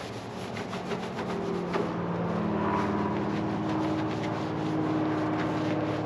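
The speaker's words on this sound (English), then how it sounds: "it reveals a whole bunch of dust and dirt in here, so I'm just going to go ahead and clean this off." Dust and dirt get rubbed off a car body panel during a CTS-V conversion kit install on a Cadillac CTS Sport, giving a close, steady scraping and wiping texture with quick strokes that never let up.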